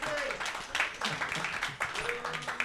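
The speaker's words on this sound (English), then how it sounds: "So massive round of applause for Martin." Clapping from a crowd rises under people talking and cheering, a loose, uneven burst of applause.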